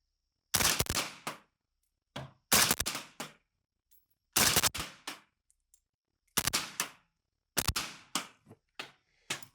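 Suppressed 5.45x39 rifle fired outdoors at night through a Ventum suppressor, five loud muffled shot groups of one to three reports each, with short sharp echoing tails and silence between strings.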